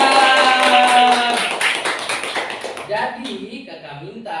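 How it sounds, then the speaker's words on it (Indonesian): A group of children claps hands for several seconds, a dense burst of applause mixed with voices that thins toward the end. "Tepuk tangan."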